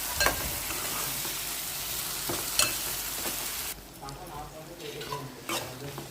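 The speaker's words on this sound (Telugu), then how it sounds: "ఇప్పుడు టొమాటోలు, ములక్కాడ ముక్కలు కూడా వేసి బాగా మగ్గించుకుందాము." Tomatoes and drumstick pieces sauté in a pan of prawn egg curry, a steady close sizzle with occasional stirring scrapes and clinks of a utensil against the pan.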